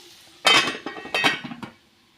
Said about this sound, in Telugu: ఒకసారి మూత పెట్టేస్తాము